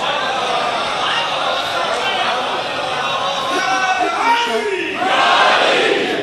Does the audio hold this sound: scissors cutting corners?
no